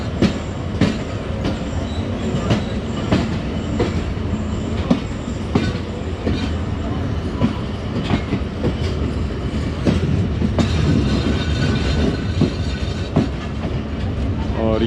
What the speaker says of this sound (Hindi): इलामा इकबाल एक्सप्रेस भी आ रही है